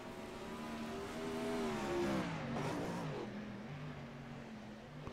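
Wingless 360 sprint cars at Port Royal Speedway, engines revving and droning from a distance with rising and falling pitch, steady and moderately loud with no talk.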